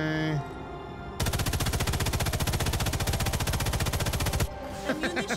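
Sustained rapid automatic gunfire from the video game Sniper Elite 5, a loud continuous burst of about three seconds, close and dominant, with brief quieter game sounds before and after.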